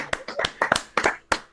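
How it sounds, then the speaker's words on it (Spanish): A few people clap for a robot crossing the finish line in a biped robot race, a brief, sparse run of sharp individual hand claps close by, uneven in rhythm, with no one speaking. "Fuerte aplauso para el robot"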